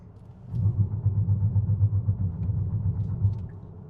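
A Hyundai Santa Fe 2.5T with all-wheel drive builds speed, its low engine rumble swelling after a quiet start and holding a steady, throbbing drone, heard from inside the cabin without talk.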